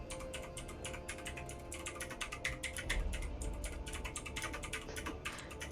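Quick, fairly quiet clicking of a computer keyboard being typed on, dense and continuous bursts of keystrokes with brief pauses, heard close up and alone.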